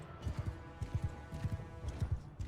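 Several horses gallop in Mount and Blade II: Bannerlord, their hooves beating in steady, close clip-clop bursts across a battlefield, loud and repeating in quick rhythmic clusters.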